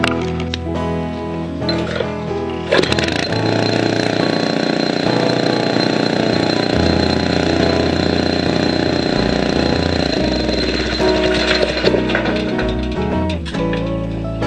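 A smooth-running motor drones loudly and steadily at close range for the whole stretch, with slight shifts in tone near the end and no talk over it.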